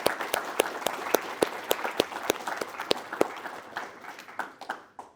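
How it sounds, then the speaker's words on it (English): An audience at a university forum event applauds a personal finance influencer, with distinct sharp claps standing out over a dense bed of clapping that thins and tapers off toward the end. "Everyone give a big round of applause for Lillian."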